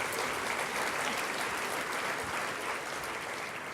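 Audience applause at an International Women's Day breakfast in Perth, a dense, even wash of many hands clapping, steady and somewhat distant, lasting nearly four seconds with no speech.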